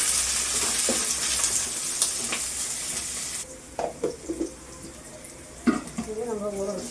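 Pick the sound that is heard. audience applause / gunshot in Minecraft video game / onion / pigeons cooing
onion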